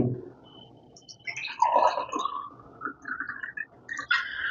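Water trickles and splashes into a glass for a few seconds, a soft liquid pour with faint clinks near the end.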